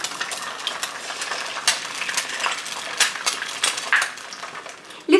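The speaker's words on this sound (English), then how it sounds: "frying eggs to place on top of the Milanesas" Eggs fry in hot oil in a pan, cooked to top breaded fried steak milanesas, giving a close, steady sizzle dotted with sharp crackles and pops throughout.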